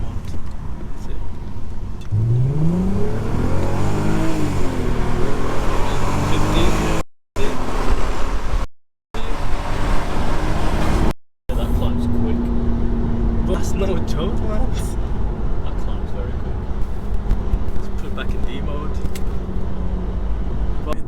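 An Audi A3 3.2 V6 in sport mode accelerates and shifts through its gears, the engine note rising sharply then dropping between shifts over road noise, with someone talking over much of it and brief dropouts midway.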